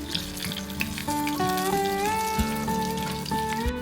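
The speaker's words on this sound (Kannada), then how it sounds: "ಇದು ಗೋಲ್ಡನ್ ಬ್ರೌನ್ ಬರಬೇಕು, ಅಲ್ಲಿವರೆಗೂ ನಾವು ಇದನ್ನು ಫ್ರೈ ಮಾಡಬೇಕು" Dough frying in hot oil until golden brown gives a steady crackling sizzle throughout, with a melodic tune playing clearly over it and no voices.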